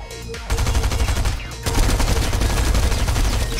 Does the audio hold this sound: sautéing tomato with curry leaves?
no